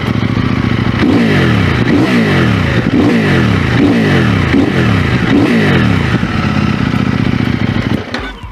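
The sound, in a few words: CFMoto 800NK motorcycle engine revving in sport mode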